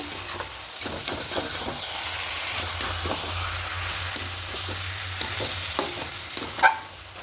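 Chicken and cabbage curry with potatoes, its liquid cooked down, stirred in a pan with a spoon scraping through the thick mixture in steady repeated strokes over a soft sizzle, close and fairly quiet, no talking.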